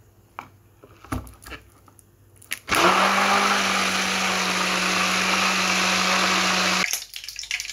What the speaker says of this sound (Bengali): এখানে সর্ষে, পেঁয়াজ, রসুন, কাঁচামরিচ, লবণ, তারপর এগুলো দিয়ে আমি ব্লেন্ড করে নিতে আসি।